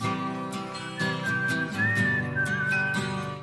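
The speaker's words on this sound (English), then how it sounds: "bringing back whistling in a pop song" A clear melodic whistle carries a tune over a steady instrumental backing with a beat, like whistling in a pop song.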